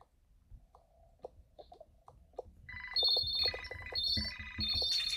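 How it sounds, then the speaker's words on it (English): Scattered short electronic blips give way to a layered pile of phone ringtones sounding together, repeating insistently and growing louder as more calls come in at once. "I heard so much phone calls."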